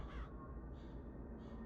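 A raven in the video game Bioshock Infinite caws in two or three harsh, raspy calls, loud and close over a steady low ambient rumble.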